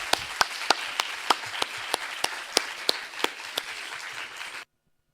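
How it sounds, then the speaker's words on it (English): A conference audience claps for a panel of speakers at an AI evaluation event, a thin, moderate round of applause with sharp individual claps standing out before it cuts off abruptly into silence. "can we have a round of applause for all of our panelists?"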